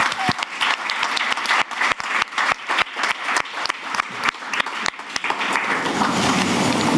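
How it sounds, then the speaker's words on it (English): Enthusiastic conference applause from a crowd, loud and sustained, with dense overlapping claps running for several seconds and swelling toward the end. "Not a short, but a very enthusiastic applause"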